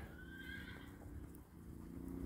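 Horses whinny with a rising, drawn-out call while hooves clip-clop steadily outdoors, the sound distant and faint over a low background rumble.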